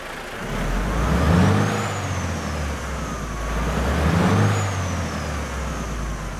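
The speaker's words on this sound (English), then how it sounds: "The engine sounds that you've just heard come from the wonderful engine and transmission compilation mod" A Volvo VNL truck engine in American Truck Simulator idles with a deep steady rumble, swelling twice as it revs and then dropping back, with a faint rising and falling whine above it and no voices.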